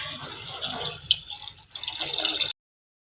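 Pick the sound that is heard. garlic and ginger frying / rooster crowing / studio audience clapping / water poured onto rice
water poured onto rice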